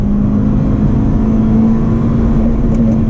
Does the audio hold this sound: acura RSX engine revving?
yes